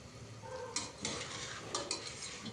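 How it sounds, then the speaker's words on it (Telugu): Vegetables tossed with fresh mint and coriander in a pan of hot oil, a soft steady sizzle broken by a few brief scraping stirs, close and alone without voices. "తర్వాత పుదీనా, కొత్తిమీర వేసి కొంచెం బాగా కలుపుకుందాము."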